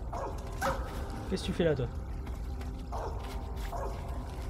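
A dog in Metal Gear Solid 3 gives a few short yips and whimpers, moderately close, while someone speaks over it against steady game background noise.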